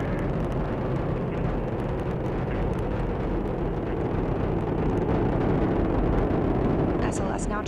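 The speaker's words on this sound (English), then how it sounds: "Launch vehicle maneuvering to the proper altitude." SLS rocket climbing after liftoff, its deep rumbling roar continuous and heavy throughout, with mission-control voices talking over it.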